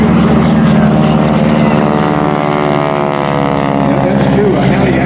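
Several fabric-covered propeller airplanes of a flying circus formation team drone steadily overhead at the 2016 Manassas airshow, a continuous loud engine roar with people talking underneath.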